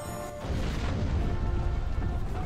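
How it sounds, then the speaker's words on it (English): Explosions rumble nonstop in a Battle of Five Armies stage of a Hobbit video game, a loud, dense barrage of booms and bursts that swells after a brief quieter start and keeps rolling to the end. "Explosions everywhere."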